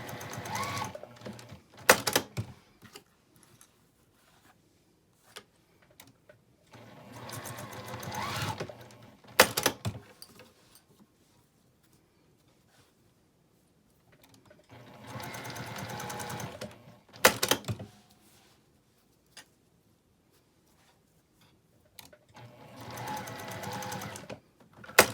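Sewing machine stitching back and forth across a fabric pouch in four separate bursts of a few seconds each, with quiet pauses between runs and sharp clicks at the start and end of each pass.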